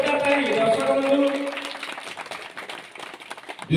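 Audience at a rural Ram Natak drama prize ceremony clapping, a dense burst of applause that thins and fades into scattered claps, with a crowd murmuring throughout.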